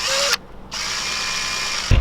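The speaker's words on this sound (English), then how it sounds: "I'm gonna drill through this one right here." Power drill boring through a wooden jointed crankbait lure body, a steady close whine that cuts out briefly, then resumes and ends with a thump.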